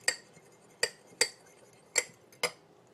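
A spoon or spatula knocks against a pan while chicken fried rice is stirred after a couple of shakes of salt, five sharp metallic clinks at an uneven pace over a quiet background, with no voices.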